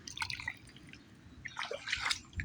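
Flood water in a garden trickles and splashes in uneven bursts, a close, fairly quiet patter of flowing and dripping water with no voices over it.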